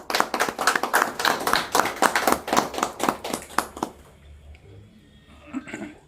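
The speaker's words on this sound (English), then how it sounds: "let us at least have one more round of applause for all our men" A small gathering at an anti-narcotics event claps for men and women in uniform, a sparse round of hand claps that is fairly close and fades out after about four seconds into quiet.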